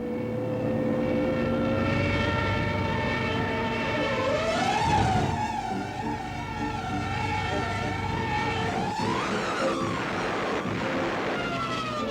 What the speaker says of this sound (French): Les Stukas sont même spécialement équipés de sirènes, destinées à créer la panique et le désordre sur les arrières de l'ennemi.